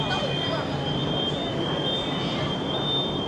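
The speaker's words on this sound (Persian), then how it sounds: "فعلا وایسادم تا مترو بیاد" A Shenzhen metro train arriving at the platform, with a steady rumble and a high sustained whine or wheel squeal filling the station.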